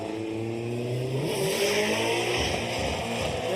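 Nissan S15 drift car in Formula Drift Japan qualifying, its engine revving hard and loud with rising and falling pitch as it rips around the track, tire noise underneath.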